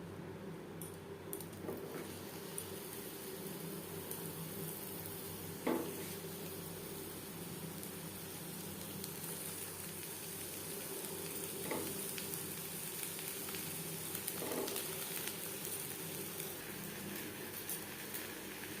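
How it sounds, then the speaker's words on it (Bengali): Bhetki fish paturi, brushed with a little oil, sears on an iron tawa with a steady, even sizzle throughout and a few soft knocks from handling. "পাতুরি আমি তৈরি করে নিয়েছি, এবার আমি সেঁকে নেব।"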